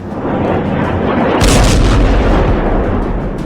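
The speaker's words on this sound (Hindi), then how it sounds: "तेल अवीव पर खुर्रम शहर मिसाइलें गिर रही हैं।" Khorramshahr missiles striking Tel Aviv, a loud, dense roar of blast noise with a heavy deep boom arriving midway and lingering rumble afterward.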